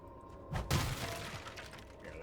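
Objects being smashed in Diablo 4: a sudden crashing, shattering impact followed by a second heavy hit and a scatter of clattering debris that trails off into quieter background noise.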